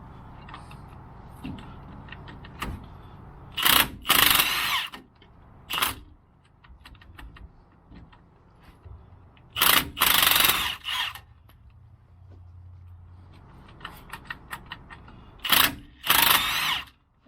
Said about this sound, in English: using my Milwaukee 1/2-inch gun because it keeps it nice and short